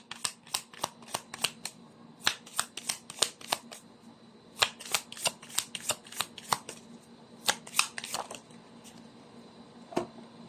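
Tarot cards are shuffled by hand in repeated quick bursts of crisp riffling flicks, close and fairly clear, with short pauses between runs and no talk.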